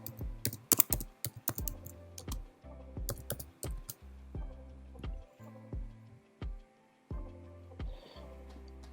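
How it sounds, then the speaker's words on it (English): Keys clatter on a computer keyboard as an address is typed in, bursts of quick close taps separated by short pauses, with no voices. "start typing in the address"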